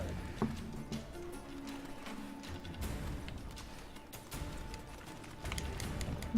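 Horse hooves thudding at a gallop in The Witcher 3, with rapid muffled clip-clop beats under game noise and occasional crashes, moderately loud throughout.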